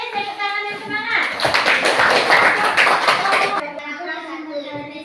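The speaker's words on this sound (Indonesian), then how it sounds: "kita pilih tepuk tangan yang semangat" Spirited, rhythmic group clapping breaks out in a classroom, a dense burst of many hands lasting a few seconds amid children's voices, then fading back to a talking voice.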